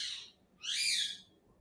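A bird calls outdoors in Miami with two bright, high chirping bursts separated by a short pause, clear against a quiet background.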